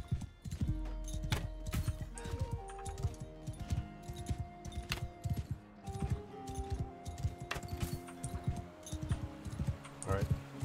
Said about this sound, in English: Let's start off this one with the horse.